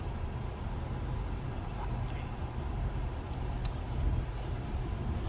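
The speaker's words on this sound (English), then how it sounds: "Here's the blower fan going there." The blower fan inside a 1995 Pontiac Grand Prix Special Edition Coupe runs as a steady, low, airy whoosh at moderate volume, with no clear speech over it.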